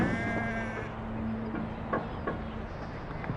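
Sheep bleat several times at a moderate distance over a steady outdoor background, with the calls rising and falling.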